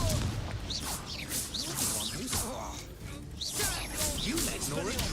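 Hogwarts Legacy battle with Confringo blasting spells, repeated explosive bursts and crackling impacts over busy combat noise, with voices shouting through it.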